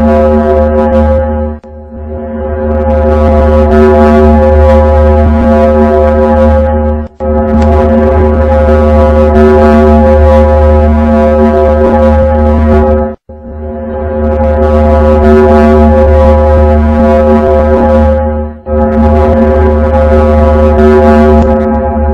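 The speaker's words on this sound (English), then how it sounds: "Now listen the sound of the Venus." Recorded sound attributed to the planet Venus: a loud, deep droning foghorn-like tone with stacked harmonics, swelling in long sustained waves broken by brief dips, with no voices.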